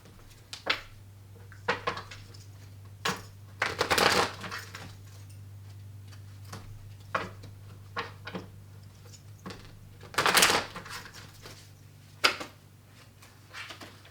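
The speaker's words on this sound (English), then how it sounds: "let me shuffle again" Tarot cards shuffled by hand during a reading, in a few quick papery bursts scattered among softer handling taps, close and fairly quiet over a steady low hum, with no talking.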